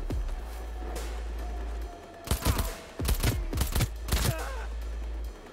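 Gunfire in the video game Cyberpunk 2077, a few sharp shots followed by clustered bursts of rapid shots, loud and close over a low steady hum.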